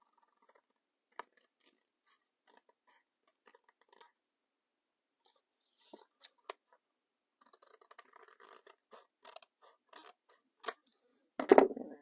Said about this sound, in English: then I'll just trim this with my long scissors.